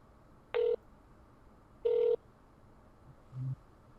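A phone line rings out while calling a KFC restaurant: two clear electronic ringback tone bursts about a second apart, fairly loud and close, then a short low blip near the end over quiet background hiss.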